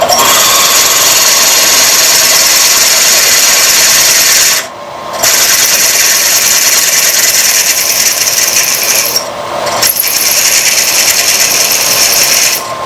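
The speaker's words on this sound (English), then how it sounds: "so we can proceed and drill the hole." A loud, continuous grinding whine of a drill boring into old cast iron, steady for several seconds with two brief pauses, close and harsh.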